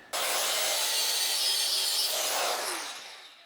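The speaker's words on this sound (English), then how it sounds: "time to get the grinder out" A grinder cuts through a metal part on a Honda CT110 motorcycle, giving one loud, continuous hissing, rasping whine for about three seconds before it tails off. No one talks.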